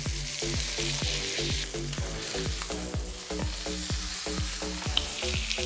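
Meat frying in butter in a pan gives a steady, close hiss and sizzle with a regular pulsing pattern running underneath throughout, and no talking.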